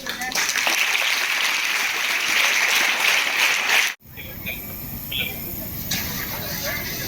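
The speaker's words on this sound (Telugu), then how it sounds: "క్లాప్స్." An audience at a fire department safety demonstration in Kodad claps; about four seconds of loud, dense applause, an abrupt cut, then quieter outdoor ambience.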